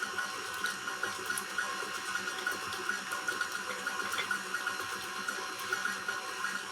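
An electric mixer beats eggs, added one at a time, into pound cake batter with vanilla, a steady whirring drone with faint rhythmic clicks, heard alone.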